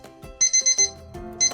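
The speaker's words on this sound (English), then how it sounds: "Did you hear the sound of the alarm clock in the morning?" Morning alarm clock ringing, rapid bursts of high electronic beeps in quick groups, loud and close with no voices.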